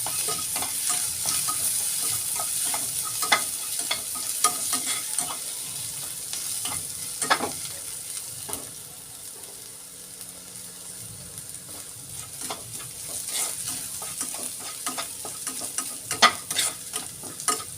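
Onion and coriander sauté in oil in a pan, with a continuous sizzle and frequent spatula scrapes and clatters of stirring, close up and steady, no voices heard.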